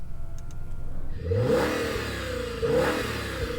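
A V10 car engine revs up twice, held below 4,000 rpm, with a deep, throaty roar, rising and falling, heard from close by.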